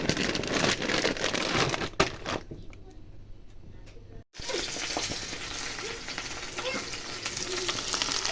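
Syrnyky (Ukrainian cottage cheese pancakes) sizzle steadily in a hot frying pan in a home kitchen, with the frying briefly dropping out partway through before resuming at full strength.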